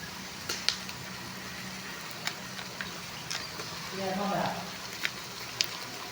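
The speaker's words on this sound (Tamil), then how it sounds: "இஞ்சி பூண்டு பேஸ்ட்டு போட்டு நல்லா வதங்கட்டும்" Ginger garlic paste frying with onions in a pan for a Tamil-style chicken curry, giving a soft steady sizzle with a brief louder burst of stirring near the end and occasional utensil clicks.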